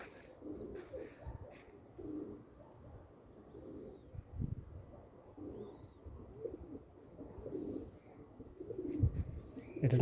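Pigeons in a new coop give soft, repeated throaty coos in overlapping bursts, moderately close and fairly quiet, with a few faint chirps and some low handling noise.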